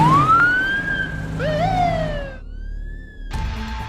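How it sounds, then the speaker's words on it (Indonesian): Police car siren in a horror film, a loud close wail rising and falling through several sweeping tones, then cutting off briefly before another burst begins. "Mendengar sirene mobil polisi, Rebecca langsung teriak minta tolong."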